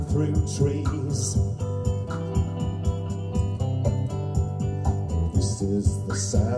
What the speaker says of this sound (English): This is the sound of the wind through trees.